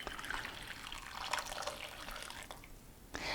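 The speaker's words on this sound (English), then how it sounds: "I'm also then going to add in some boiling water that just came to a boil." Boiling water pours steadily into a bowl for couscous with a soft, continuous splashing trickle, close by and fairly quiet, tapering off near the end.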